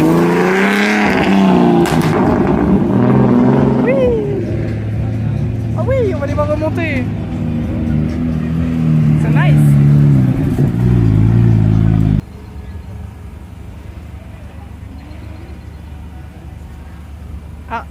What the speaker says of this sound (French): les voitures ont recommencé à rouler